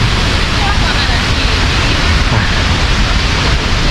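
Tad Yueang waterfall in southern Laos near the end of the rainy season sends out a loud, unbroken roar of rushing water, a steady broadband wash close by.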